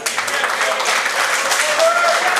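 A crowd applauds at a grappling match, steady dense clapping held at an even level, with voices mixed in underneath.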